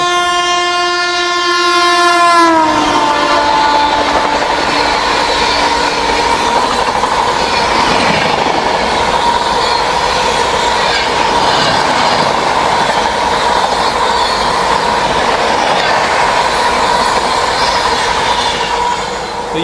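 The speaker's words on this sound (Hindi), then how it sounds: "तो ये थी भाई साहब नॉर्थ ईस्ट एक्सप्रेस, कामाख्या से आनंद विहार जाने वाली।" The North East Express, running from Kamakhya to Anand Vihar, rushes past at 130 km/h, opening with a loud, sustained horn blast that drops in pitch, then a continuous roar of wheels and rattling coaches close by.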